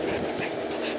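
A young puppy pants close up in a quick, steady rhythm of breathy huffs, filling the brief moment without any voices.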